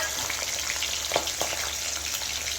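Cumin, mustard seeds, chopped green chillies and tomatoes fry in a pan with a steady, close crackling sizzle, broken by a couple of brief stirring scrapes, with no talking.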